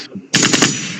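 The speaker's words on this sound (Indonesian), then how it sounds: "Ada orang bakar petasan." Firecrackers set off nearby, a rapid crackling string of four or five sharp pops that trails into a noisy wash, preceded by a brief murmur of voices.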